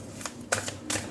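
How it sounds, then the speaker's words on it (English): Tarot cards are pulled from a deck during a reading: three quick, soft papery slides and flicks at close range, quiet and alone. "We're going to pull out 5 cards for you."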